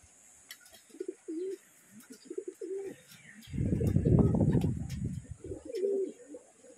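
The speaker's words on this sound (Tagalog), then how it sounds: "may dalawa na tayong ibon" Racing pigeons cooing after arriving home from a race from Atimonan, Quezon: several soft rolling coos close by, with a louder burst of wing flapping or rustling in the middle and faint chirps around.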